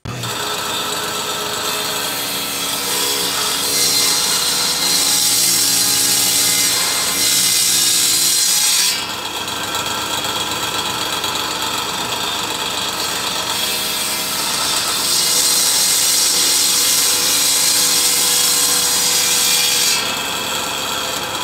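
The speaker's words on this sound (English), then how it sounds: "I'm gonna run them through the table saw, clean up the edges, see how they match up" A table saw rips through wood boards, a loud, continuous rasping roar that rises and eases as each board feeds through the blade.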